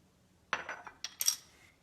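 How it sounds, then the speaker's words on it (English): Egg yolk being beaten in a bowl during a cooking demo: a short run of soft, quick clinks and scrapes of utensil against the bowl, close but quiet, with no talking. "So first we beat the egg yolk"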